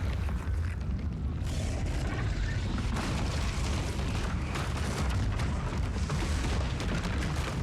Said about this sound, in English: The hell of an explosion.